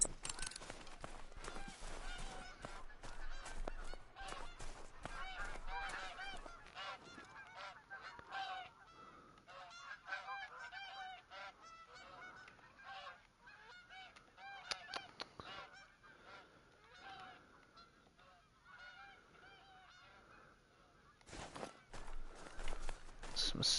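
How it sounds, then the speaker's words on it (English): Snow geese honk repeatedly in theHunter: Call of the Wild, a busy chorus of overlapping calls near a lake alongside footsteps, growing louder toward the end. "some snow geese roaming around, being all grumpy that I'm outside, essentially."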